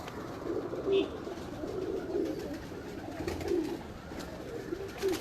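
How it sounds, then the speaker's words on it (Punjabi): Coos from a flock of breeder pigeons in a loft, a female pigeon among them, come in repeated low, throaty phrases at moderate distance and blend into a steady murmur, with no voices over them. "ਇਹ ਕਬੂਤਰੀ ਆਈ ਜੇ"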